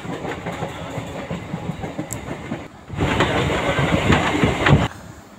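A local commuter train runs from Konnagar toward Howrah, heard from on board as a rumbling clickety-clack of wheels on rails that grows louder and denser partway through.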